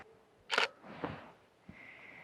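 A single sharp camera shutter click at 1/250 second, followed by a softer mechanical whir and a faint tick in an otherwise quiet room.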